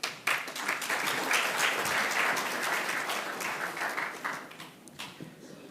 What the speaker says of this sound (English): Sure, another round of applause for him, please.